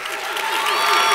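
A church audience claps briefly in a loud burst, with crowd voices and cheering mixed into the clapping.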